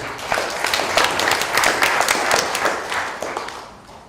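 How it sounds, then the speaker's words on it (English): Audience at a public health conference applauding to welcome a PhD candidate, a loud, dense burst of many hands clapping that holds steady, then begins to thin out toward the end. "So we have a big applause for him."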